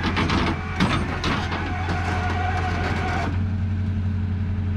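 Truck engine revving while towing a car, a loud varying engine roar with mechanical rattles in the first seconds, settling into a steady lower drone.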